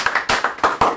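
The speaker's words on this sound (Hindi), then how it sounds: "पहले ताली बजाइए इनके लिए।" Audience applauding at a spiritual gathering, a quick run of sharp, close claps in an uneven rhythm, about half a dozen distinct hits within a second, with no talk over them.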